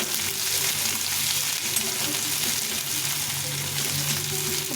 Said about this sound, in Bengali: পেঁয়াজটা দিয়ে দিব পেঁয়াজটাকে একটু লাল লাল করে ভেজে নেব